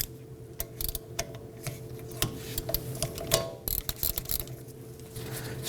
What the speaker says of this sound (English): You're going to use that 14mm socket. You can use your impact gun or a ratchet to loosen and remove this.